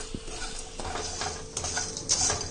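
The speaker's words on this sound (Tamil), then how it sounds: "லோ ஃப்ளேம்லேயே வச்சு ஃப்ரை பண்ணுங்க, இல்லைன்னா கருகி போயிடும்." Spices, including bay leaf, fry in oil over a low flame for Chettinadu chicken gravy. A soft sizzle sits under a few clinks and scrapes of a utensil against the pan.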